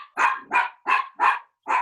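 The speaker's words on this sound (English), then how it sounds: "Oh, someone has a dog." A dog barks five times in a steady, evenly spaced run, each bark loud and fairly close, with no talk over it.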